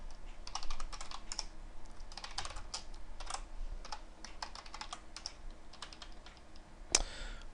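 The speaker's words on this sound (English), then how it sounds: "when you hit buttons on the keyboard, that data is being sent to the server" Typing on a computer keyboard into a telnet session connected to a locally running TCP server: a steady run of close, quiet key clicks with uneven rhythm, plus one sharper louder keystroke near the end, no talk.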